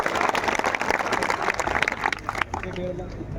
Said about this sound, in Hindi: मुख्तार और मुमताज, दोनों भाइयों के लिए जोरदार तालियां